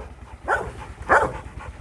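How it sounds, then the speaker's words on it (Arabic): Two sharp barks from a police-trained dog, loud and close, spaced about half a second apart against a low background hum. "سيمبا، ايه السر في الكلب ده؟"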